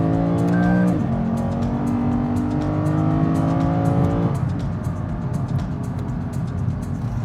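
The V8 engine of a 2020 Lexus RC F revs hard through a downshift, its pitch sweeping and jumping as the gears change, then settles into a loud, steady drone heard from up close.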